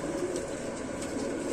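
An old pigeon, about twenty years of age and in poor condition, coos softly in a low, steady murmur that runs throughout without any talking.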